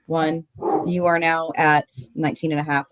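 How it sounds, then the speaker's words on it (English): A pet dog barks in short bursts indoors, partly masked by someone talking over it throughout. "So excuse my dog barking."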